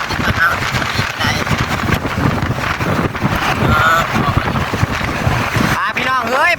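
Wind buffets the microphone outdoors in a steady, loud, rumbling rush with gusty swells, while someone talks over it throughout.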